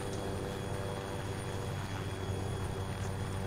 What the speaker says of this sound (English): this chopper will now take off and fly onto its waypoints